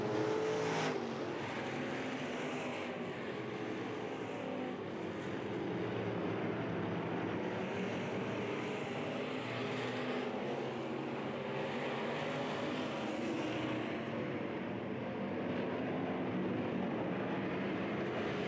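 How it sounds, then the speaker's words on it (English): IMCA stock cars race around RPM Speedway in a 20-lap last chance race at the Fall Nationals, giving a continuous distant roar of engines that stays fairly faint and never stops. "This 20-lap stock car, last chance race, your leader."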